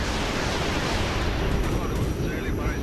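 Rockets exploding in the Regiments war game, heard as a continuous roaring rumble of blasts and debris, dense and loud throughout with no clear gaps, as a voice talks over it.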